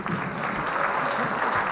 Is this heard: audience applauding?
yes